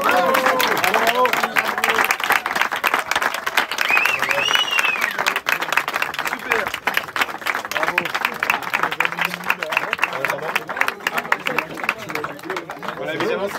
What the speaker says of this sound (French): applaudissements pour eux s'il vous plaît